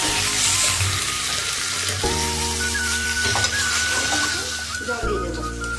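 Mutton sizzles loudly in a pan as water is added, a dense hissing fry with clinks and shifting tones that carries on steadily for several seconds.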